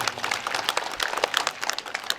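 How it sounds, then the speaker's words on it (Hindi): Loud audience applause with dense, continuous clapping at a Manas Mandli devotional gathering in Chikhli, Gariyaband, sustained evenly throughout. "एक बार जोरदार ताली बजा दीजिए"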